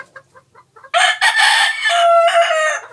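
A rooster crows loudly and close by, a long strained cock-a-doodle-doo after a few soft clucks.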